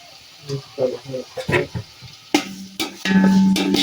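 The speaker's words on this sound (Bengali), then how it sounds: "তেল দিয়ে দিলাম এবং তার মধ্যে দেখো কুচি করে কেটে রাখা 1 কাপ পেঁয়াজ এবং 7 থেকে 8টা আস্ত মরিচ, এগুলো আমি একটু ভেজে নিব।" Chopped onion and whole chillies go into hot oil in a pan, starting with scattered clinks and stirring noises, then breaking into a loud, steady sizzle for the final second.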